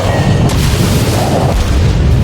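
Naval guns and explosions in World of Warships battle: a continuous dense roar of low booming blasts, with sharper bursts near the half-second and one-and-a-half-second marks, loud and close with no talk.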